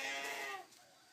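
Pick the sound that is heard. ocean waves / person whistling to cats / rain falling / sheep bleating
sheep bleating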